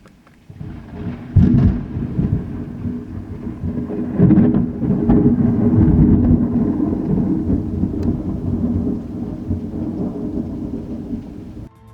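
Thunder and rain from a strong elevated thunderstorm, rolling rumbles swelling in two loud surges over a continuous hiss of falling rain, then easing into a long fading grumble.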